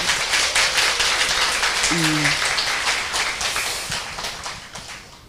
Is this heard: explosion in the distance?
no